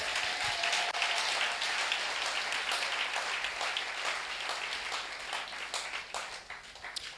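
A church congregation claps in acclaim of the Lord, a steady wash of many hands clapping together at a moderate distance for several seconds, with no one speaking over it.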